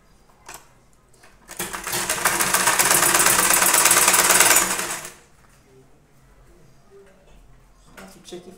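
A sewing machine runs in one loud continuous burst of about three seconds, stitching a tote bag to its lining, close up, with quiet handling noises before and after.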